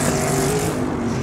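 Race car engine in an esports racing video game, with the car on a long straight: a loud, continuous high-revving roar holds steady and alone for just over a second.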